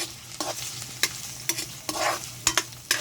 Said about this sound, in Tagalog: Magluluto tayo ng tuyo.